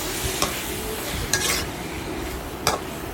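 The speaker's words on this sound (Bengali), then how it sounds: "লাউ দিয়ে ভালো করে কষিয়ে এভাবে 10 মিনিট রাখবো" Prawns and bottle gourd are stir-fried in a pan, a steady sizzle broken by three sharp spatula scrapes against the metal, close and fairly loud.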